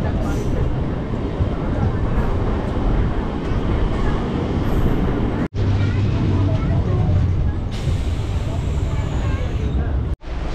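A Bengal local train runs from Sealdah toward Tarapith, giving a continuous low rumble and rattle of carriages on the rails. Two brief breaks interrupt the sound, and passengers' voices can be heard inside the car.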